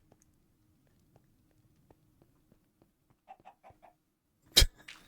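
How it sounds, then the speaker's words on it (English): Chicken clucks in the video game Contained: a short run of four or five clucks followed by a louder, sharper squawk, heard alone against a quiet background with faint scattered clicks. "Okay, I saw the closed captioning that says chicken clucks."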